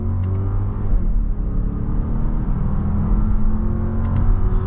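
A 2026 Jeep Grand Cherokee L Summit engine roars steadily at full throttle in second gear, a deep continuous rumble with a strong low growl and no pauses, close and loud throughout.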